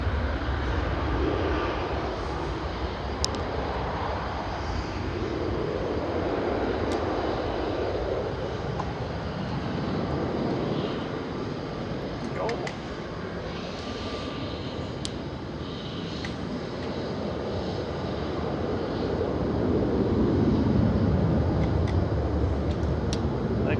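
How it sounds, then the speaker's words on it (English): An Airbus A321 jet airliner at Manchester Airport, its engines producing a continuous broad roar that slowly swells and fades across the span, steady and moderately distant. "Airbus A321"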